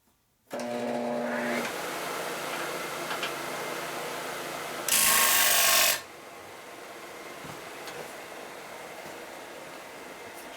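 An electric grinder works on a 1983 Harley-Davidson shovelhead 80ci engine part during a stock motor rebuild, whirring steadily with a sharp, much louder burst of grinding for about a second near the middle before settling back to a softer hum.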